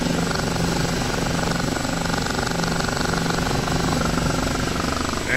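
An OH-58D Kiowa helicopter taxis in DCS World flight simulator, its steady rotor chop and engine whine droning loud and continuous throughout.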